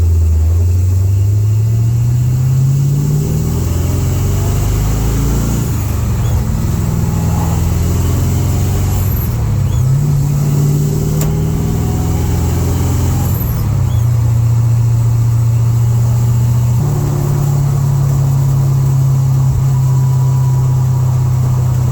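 A car engine rumbles near and loud, its low drone dipping, hesitating and surging unevenly as it threatens to cut out like it is running out of gas, with no talking over it.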